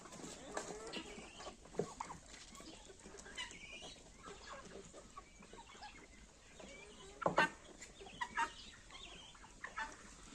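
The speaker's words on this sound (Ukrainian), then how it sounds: "Тут трохи цесарочок, трохи курочок, трохи індик, індиків" Chickens, guinea fowl and turkeys call around a morning farmyard, scattered clucks and sharper cries at a distance over quiet background noise, with a few louder bursts near the end.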